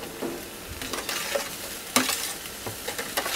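Chicken fried rice stirred on a Blackstone flat-top griddle, a steady close sizzle with scraping spatula strokes and a sharper clatter partway through, no talking.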